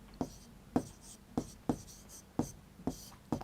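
Chalk or marker strokes writing numbers on a classroom board for a Class 3 maths lesson, seven short scratchy taps in a steady rhythm, close and clear with no talking.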